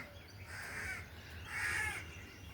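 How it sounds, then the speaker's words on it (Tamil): Crows caw in two drawn-out bursts over a faint low hum, fairly near and moderately loud, at a rooftop garden around sunrise, with no voices. "எல்லா பறவைகளும் வந்துட்டாங்க, சாப்பிட வந்துட்டாங்க"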